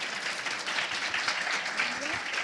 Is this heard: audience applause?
yes